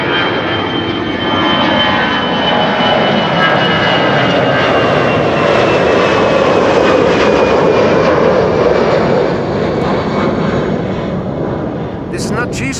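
An airliner departs Amsterdam Schiphol Airport from the Kaagbaan runway, a loud, sustained jet engine roar rumbling close by and gradually easing off as it climbs away.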